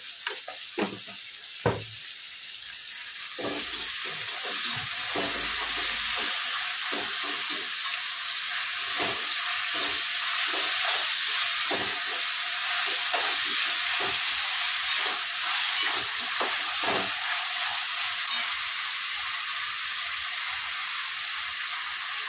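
Tomatoes tipped into a hot frying pan set off a loud, steady sizzle and hiss, with a few clinks and stirring scrapes near the start, and no talking over it.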